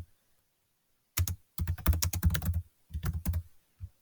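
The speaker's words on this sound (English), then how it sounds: "I'm just going to go ahead and type him in because I don't have him in here." Typing on a computer keyboard in a quiet room, with short irregular bursts of crisp key clicks separated by brief pauses, close and clear.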